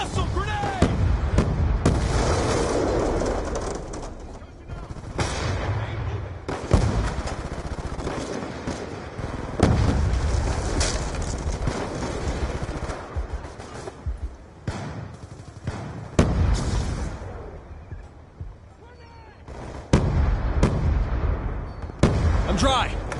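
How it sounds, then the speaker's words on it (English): A grenade explodes amid rapid, dense gunfire in the Call of Duty Black Ops 2 video game, a loud, continuous barrage of shots and blasts with little let-up. "Hostile grenade!"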